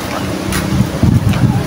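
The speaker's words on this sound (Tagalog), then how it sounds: "narinig ko na yung nagaslas ng tubig" Rushing water from the Wawa Dam waterfall roars as a broad, steady wash, mixed with buffeting wind noise on the microphone and a few low thumps, fairly loud and close with no talk.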